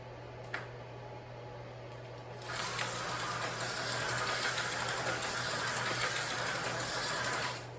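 A fast JL slot car with twin rear magnets beside the motor runs on the track at about half power from the power pack, a steady high-pitched motor whine that starts up abruptly and holds evenly close by.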